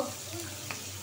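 Pangas fish frying in a pan over a burner turned up to full heat, heard as a faint, brief, steady sizzle.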